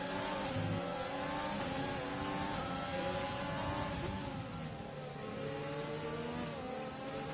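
Formula 1 cars race around Bahrain in a racing game, several engines droning continuously in a dense high-pitched blend whose pitch wavers and dips slightly as they shift and accelerate, loud and unbroken with no talk.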